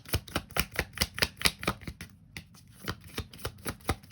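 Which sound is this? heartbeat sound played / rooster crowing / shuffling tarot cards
shuffling tarot cards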